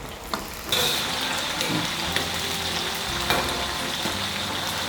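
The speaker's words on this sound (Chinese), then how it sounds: "其实就是来炸一个这个葱油，增加这个油的香味" Scallions, large onion and onion frying in hot oil to make fragrant scallion oil for Sichuan maocai, a steady close sizzle with brief clatters of stirring and no talk.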